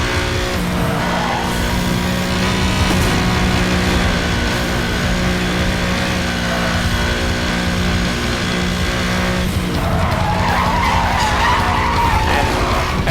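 Car tires screech and skid continuously through long drift corners in the racing game Need for Speed Hot Pursuit Remastered, with a steady engine drone underneath and a fresh surge of squealing near the end.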